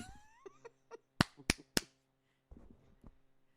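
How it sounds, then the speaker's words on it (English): Sharp hand claps at the start of a podcast recording, three loud close smacks in quick succession after a few softer taps, followed by light laughter and chatter. "I'll clap again"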